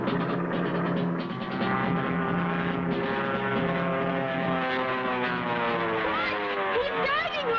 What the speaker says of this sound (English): Looks like Cargo's plane down there